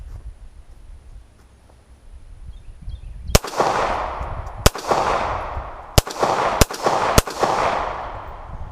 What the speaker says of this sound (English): Just launching ammo downrange.